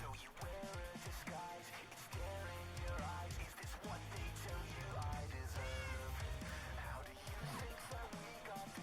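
Cat meowing in modded Minecraft, repeated short mews over a busy background of game music and tones, moderately close across the whole stretch.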